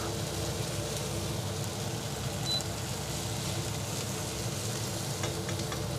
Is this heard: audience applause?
no